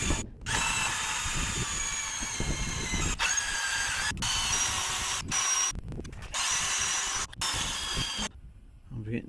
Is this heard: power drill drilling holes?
yes